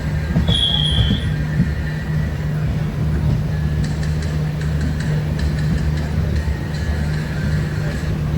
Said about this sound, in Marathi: हे ट्रेन आहे बघा.